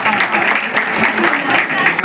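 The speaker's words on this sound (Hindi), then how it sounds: "जोरदार तालियां बच्ची के लिए" Sustained applause from a crowd at an awards ceremony in Delhi, steady clapping filling the whole moment without a break.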